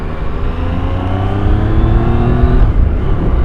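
A 2017 Yamaha MT-09 motorcycle engine droning and pulling up through the revs, loud and close with a rising harmonic whine, no voices.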